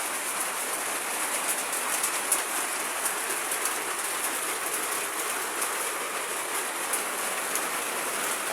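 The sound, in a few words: heavy rain with wind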